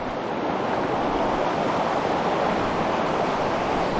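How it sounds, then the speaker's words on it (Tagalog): A river runs high and fast, giving off a constant loud roar of rushing water that stays steady throughout with no voices. "Ganda ng ilog. Laki ng tubig."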